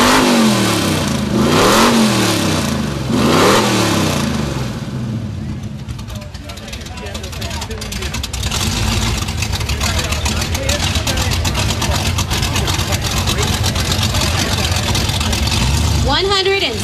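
A 1968 Chevy Nova with open headers revving at a car show contest, loud rising and falling engine roars at first, then a sustained rough, throbbing idle and a final rev, close and dominating throughout.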